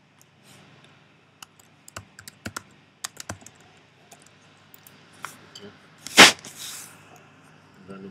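Scattered keystrokes and clicks on a computer keyboard while working in Adobe Photoshop CC, sparse and close, with one louder sharp burst near the end and no talk over it.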